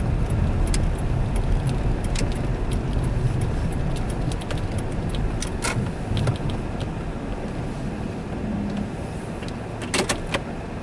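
A Honda Odyssey with a recently addressed EGR valve fault is driven on a short road test; a steady, loud engine and road rumble fills the cabin, with scattered small clicks and rattles and no talking.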